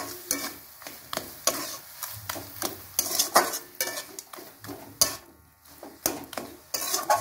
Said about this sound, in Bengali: এবার আলুটাকে নাড়িয়ে লালচে করে আনতে হবে